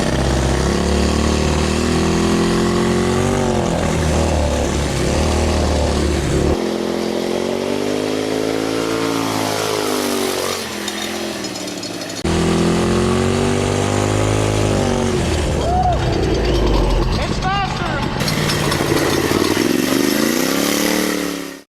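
A turbocharged 670cc buggy engine roars loud and close throughout, revving up and down continuously, with one short easing of throttle midway before it climbs hard again and cuts off at the end.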